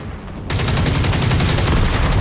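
Rapid automatic gunfire from a firefight in Generation Zero breaks out suddenly and keeps going as a loud, steady stream of shots, with no talk over it.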